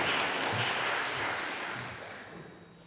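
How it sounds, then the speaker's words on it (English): Applause from a gathered audience at a school event, a soft even wash of clapping that gradually fades away. "Would you like to give him a round of applause?"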